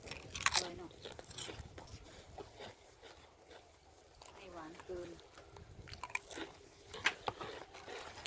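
Crispy Thai kite rice crackers, fresh from the stove, give sharp, close crunches in a few separate bites, with chewing between them and people talking around them.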